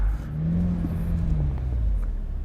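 A 2019 BMW Z4 sDrive30i roadster in sport mode, its engine a close, steady low rumble with a brief rising rev in the middle, heard from inside the car with no talking.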